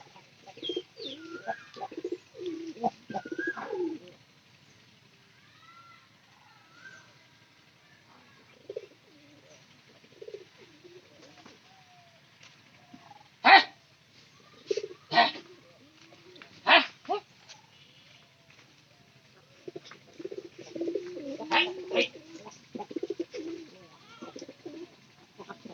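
Pigeons coo softly in low, rolling phrases between stretches of near silence, nearby in a home loft. Sharp flaps or knocks and a voice making calls break in now and then.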